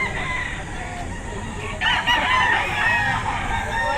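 Roosters crow and cluck amid a busy outdoor background hum at a market behind SM City Lipa, Batangas, with a louder crow rising midway and continuing to the end.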